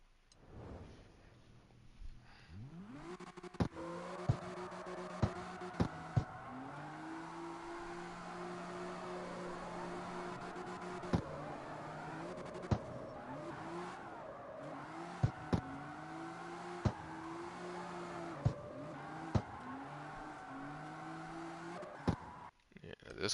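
Car engine in the CarX racing video game, with a sustained engine drone and rising rev sweeps between repeated sharp ticks and shifts, steady and fairly close, with speech over parts of it.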